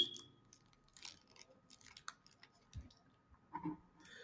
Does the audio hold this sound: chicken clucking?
no